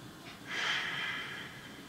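A single deep breath taken during a yoga class, a soft airy rush that swells and then slowly fades, close and fairly quiet.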